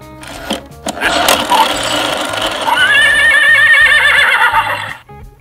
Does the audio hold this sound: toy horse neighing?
yes